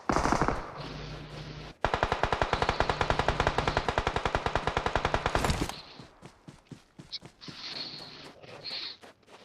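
Sustained automatic gunfire in a PUBG Mobile battle, a long rapid burst of loud, evenly spaced shots near the player, followed by scattered fainter shots and other combat noise.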